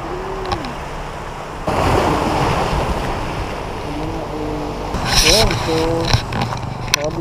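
Sea surf washes in steadily with a windy rumble along the Infanta–Real coast, while people talk intermittently over the ocean noise.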